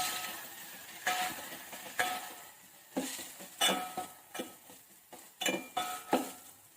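Thinly sliced onions and tomatoes sizzle in a pan while being stirred for rasam, with repeated scraping and clinking strokes of a spoon against the metal, fairly close and steady, no talk.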